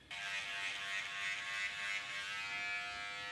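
An electric razor shaves off chest hair, a steady close, high-pitched buzzing hum that starts suddenly and runs without pause.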